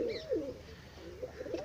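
A pigeon being held in the hands gives soft, low coos, a couple of short throaty calls close by with quiet pauses between.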